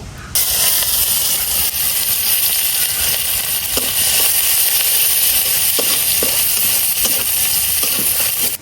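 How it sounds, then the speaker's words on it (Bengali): Chopped onions fry in oil left over from frying fish, a loud, steady sizzle and hiss that fills the whole stretch, with occasional stirring scrapes and small pops breaking through. "এখন এই মাছ ভাজার তেলের মধ্যেই দিয়ে দেন পেঁয়াজ কুচি"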